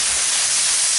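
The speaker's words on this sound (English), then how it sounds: "we're gonna dump our branch lettuce right on top of it" Branch lettuce dumped into a hot pot gives a loud, steady hiss of sizzling and steam that fills the whole moment, close up, with no voices.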